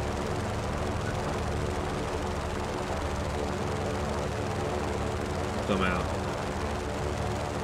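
A helicopter or aircraft in Just Cause drones steadily as it flies and sets down on a road, a dense engine noise throughout with a brief voice midway.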